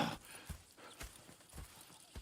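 Horse hooves clip-clop in a steady walking rhythm in the video game Red Dead Redemption 2, a run of soft, evenly spaced thuds at moderate distance with no talk.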